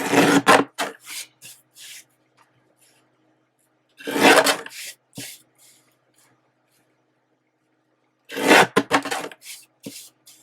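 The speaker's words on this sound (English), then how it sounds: "So I'm going to use my Deco trimmer." A Deco paper trimmer slices along the edges of a paper journal cover in three separate scraping passes, each a short close rasping burst followed by a few quick clicks, with silence between them.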